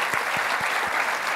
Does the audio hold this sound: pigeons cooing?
no